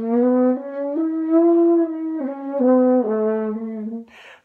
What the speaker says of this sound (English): So it would sound like this if I played a scale on the French horn.